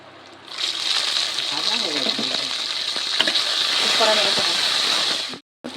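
Yard-long beans drop into a hot pan with carrots and cashews, setting off a loud, steady sizzle and frying hiss that runs nearly throughout, with stirring scrapes over it before a brief drop near the end.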